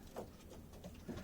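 Racing pigeons in a loft give a few soft, low cooing calls in quick succession, close by and fairly quiet, with a faint rustle around them.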